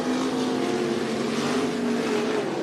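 Limited sprint race cars roar down the back straightaway at Cottage Grove Speedway, a dirt oval in Cottage Grove, Oregon, their engines a loud, steady, close droning buzz that holds for the whole stretch with no talk over it.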